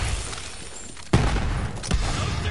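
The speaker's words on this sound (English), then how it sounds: "Stop shooting, you maniac!" Borderlands 3 gunfire erupts in a sudden loud burst after a quieter stretch, followed by a second sharp report and sustained rumbling combat noise.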